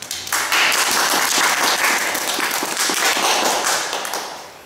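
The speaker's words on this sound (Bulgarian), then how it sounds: "Има овации" Crowd at a wedding breaking into loud, sustained applause, dense clapping that swells quickly and holds steady before tapering off at the end.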